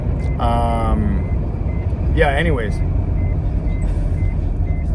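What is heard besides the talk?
car seatbelt sensor warning beeping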